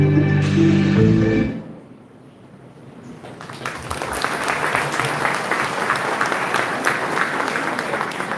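During a university academic session inauguration ceremony, music stops abruptly and is followed by a short hush. A large audience then breaks into sustained applause that builds and continues steadily to the end.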